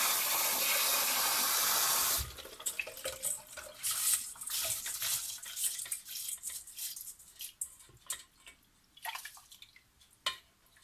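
Rice is washed in water for fried rice: a gushing pour at first gives way to swishing, sloshing and dripping, uneven splashes close by with no talk.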